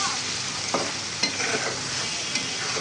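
Shrimp dropped into a hot pan sizzle steadily while a utensil stirs them, with a few sharp scraping clinks over the constant frying hiss, close and alone without talk.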